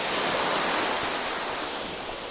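Ocean surf and strong wind at Praia Daniela beach in Florianópolis, a steady, loud broadband wash of breaking waves with wind buffeting throughout, no voices.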